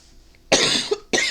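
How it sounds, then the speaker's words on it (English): Two hard coughs from a person in a quiet room during a cross-stitch project update, the first long and harsh, the second shorter, both close and loud. "Again, I'm so sorry for all the coughing."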